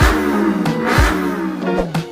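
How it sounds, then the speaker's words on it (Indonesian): A four-stroke engine runs and revs in short bursts, its loud note rising and dropping several times in quick succession, close and with no talking. "mesin 4 tak"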